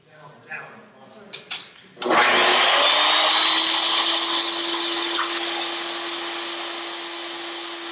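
A power saw whines up and cuts through a piece of wood, a loud steady high-pitched drone that holds for several seconds and eases slightly near the end, after some brief handling knocks and a few spoken words.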